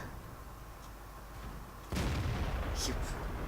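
A tank cannon fires in World of Tanks, a heavy IS-7 gun shot aimed at a BatChat 25t: one sudden loud boom about two seconds in, then a sustained rumbling roar over low background noise.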